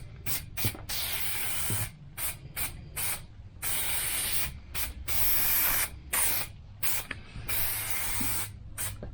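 Glue spraying onto a carpet lining panel for a van or campervan conversion, heard as a series of short and longer hissing bursts with brief pauses between them, close up and with no one talking.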